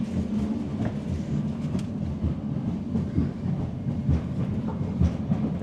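Steady rumble and rhythmic clatter of a train rolling along rails, heard from inside a passenger carriage on a long-distance journey across Kazakhstan, continuous and fairly loud with low-frequency thumps throughout.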